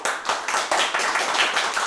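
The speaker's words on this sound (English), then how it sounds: "Natasha and Boris, by your applause, Natasha and Boris." Clapping from an improv comedy show audience voting by applause, a short burst of quick, fairly close hand claps in an uneven rhythm that fills the whole moment.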